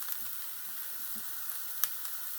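Soft, steady sizzling of flour frying in a pan, quiet and continuous with a couple of faint clicks.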